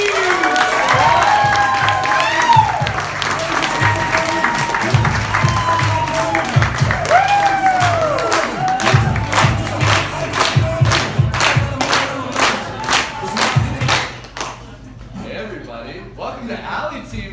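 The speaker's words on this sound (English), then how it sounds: "Please put your hands together for a big round of applause" A crowd at a live music event applauds loudly with steady clapping, whoops and cheers rising over it, then the applause thins out and trails off near the end.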